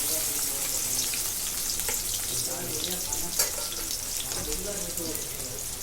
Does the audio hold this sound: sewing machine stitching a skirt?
no